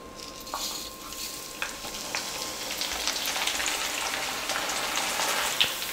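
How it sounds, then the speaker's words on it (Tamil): Flattened rice (aval) deep-frying in hot oil for a mixture snack: a dense, loud, rain-like crackling sizzle that grows slightly fuller as it goes, with a few sharper pops and no voices. "சும்மா ஒரு 30 செகண்ட் போட்டாலே போதும், அவல் வந்து நல்லா வறுபட்டு வந்துடும்"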